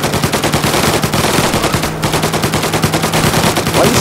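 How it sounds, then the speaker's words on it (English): In the Mafia Remake video game, a police officer fires a gun in a long, rapid, continuous burst of loud, close shots with a steady rattling rhythm and a brief pause midway. "Why you shooting cop? You shooting at nobody. You're wasting ammo."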